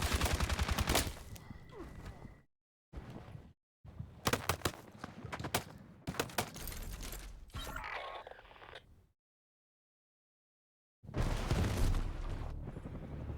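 In the video game Battlefield 6, bursts of gunfire and booming mortar blasts come in choppy, loud clusters broken by sudden dead silences, with mechanical clatter between volleys.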